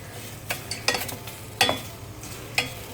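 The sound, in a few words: stirring okra in a saucepan without oil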